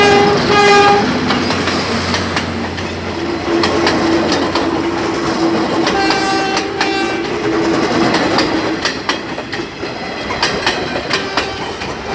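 A train passes close by on the rail line beside a house in the Philippines, sounding its horn in long steady blasts with rumbling wheels and clattering cars, loud throughout with no talk.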